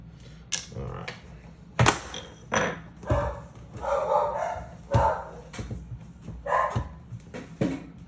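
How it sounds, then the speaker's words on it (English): Dogs bark in a string of short bursts, mixed with sharp clicks and snaps of plastic parts while a Super Nintendo console is taken apart. "my dogs decide to start chasing squirrels"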